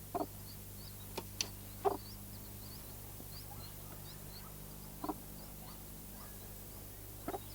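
Broody hen rearing a brood of pheasant chicks gives a few soft, scattered clucks over a quiet steady background hum, with faint chick peeps.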